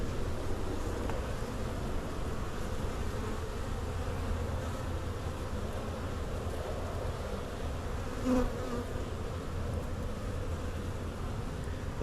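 A honeybee swarm being moved into a hive hums in a steady, dense drone close by, unbroken throughout with a brief louder swell near the end and no talking.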